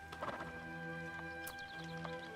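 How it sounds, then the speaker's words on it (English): A horse in a video game gives a short whinny and snorting sounds over a steady tonal game soundscape, followed by a few brief clicks and hoof-like knocks. "The horse got bogged, yep."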